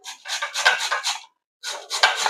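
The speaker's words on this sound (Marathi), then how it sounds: "तर इथे मी हे बटाटे आधी किसून घेते. तर हे बारीक किसणीने आपल्याला किसायचे." Raw potatoes rubbed against a fine metal grater in rapid scraping strokes, two bursts separated by a short pause, close and clear with no talking.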